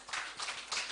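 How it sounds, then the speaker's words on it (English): Audience applause at an old boys' association election event, a short burst of clapping with bright, dense bursts of hand claps sounding fairly close. "let's give these gentlemen a round of applause"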